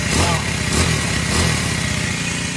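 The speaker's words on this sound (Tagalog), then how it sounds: "Tinesting nga uli namin etong makina na to." An old stored boat engine is test-run, a loud, close, rough mechanical chugging with a steady pulsing beat that holds throughout.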